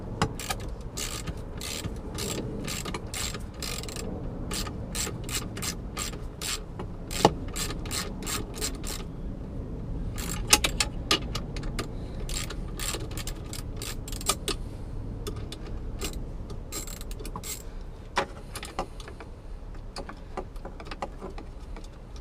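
A ratchet clicks in rapid bursts while a 10mm bolt comes off a heater bracket on an Audi S4 B5. The close, dry ticking runs in repeated strokes, pauses briefly, then resumes with scattered metallic knocks.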